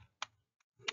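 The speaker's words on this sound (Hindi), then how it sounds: "अभी मैं एक ही हाथ से टाइप कर रहा हूँ ना, इसलिए ऐसे थोड़ा स्लो टाइप करता हूँ।" A few slow, separate keystrokes tapped with one hand on a computer keyboard, heard as two or three clear clicks with gaps between them in a quiet room.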